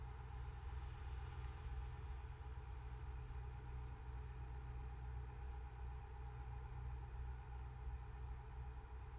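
Steady low idling drone of a truck engine in a trucking video game, with an exhaust brake fitted; the tone is even and unchanging throughout, with a constant rumble and no talk.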